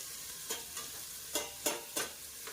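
Garlic and white onion sautéing in a pan, a faint steady sizzle broken by several sharp scraping stirs at an uneven rhythm, with no talking.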